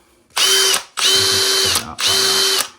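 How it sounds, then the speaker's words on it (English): An electric drill whirs up three times in quick succession, spinning a Tamiya touring car RC wheel, each burst a loud steady whine that stops abruptly, recorded close up. "we're just going to spin it up on the drill"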